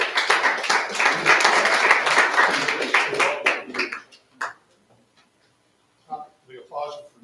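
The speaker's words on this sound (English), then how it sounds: "The applause was for Justin's birthday today." Applause in a city council chamber for a staff member's birthday, a dense burst of clapping for about four seconds that thins out, followed by a few scattered taps and brief voices.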